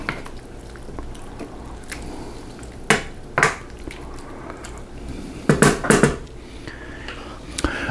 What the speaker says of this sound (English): Let's just give that another stir real quick.